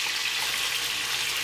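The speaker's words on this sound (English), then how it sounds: "you hear that nice sizzle?" Chicken and vegetables sizzle steadily in a hot pan, a continuous bright crackling hiss with no voices.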